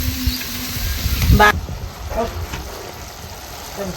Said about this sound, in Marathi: तेल फुटोपर्यंत मसाला शिजवून घ्यायचा आहे